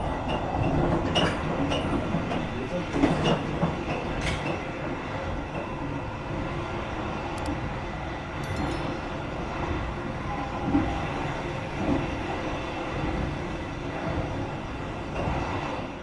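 An Argo Wilis executive-class passenger train departing Bandung station in Indonesia rumbles steadily along with rhythmic wheel clatter on the rails, occasional squeals and clanks, heard from inside the carriage without talk.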